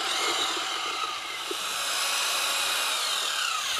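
A power tool runs steadily while mixing a batch of mortar for glass-block construction, a continuous loud whirring drone with no pauses.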